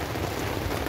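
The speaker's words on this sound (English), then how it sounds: "It is so heavy rain." Steady, dense hiss of heavy rain pouring down, a continuous broadband wash with no breaks over a short stretch.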